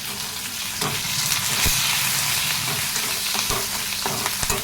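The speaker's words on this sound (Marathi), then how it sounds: "मिरच्या छान फ्राय झाल्या" Garlic and green chilies fry in hot oil for a cabbage vegetable dish, giving a steady, close, loud sizzle with occasional sharp clicks from stirring.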